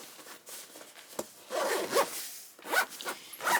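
A zipper on a pocket of a Thule Landmark backpack is pulled closed in several short rasping strokes, close and fairly quiet, with pauses between the pulls and no talking.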